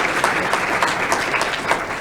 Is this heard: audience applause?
yes